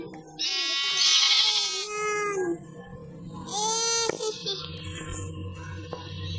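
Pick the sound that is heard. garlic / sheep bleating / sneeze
sheep bleating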